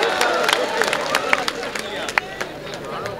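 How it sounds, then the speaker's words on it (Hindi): Audience at a mushaira in Govandi, Mumbai welcoming a woman poet on stage with loud applause and cheering, a steady crowd roar with claps and voices mixed throughout. "पुरजोर तालियों से इस्तकबाल करें"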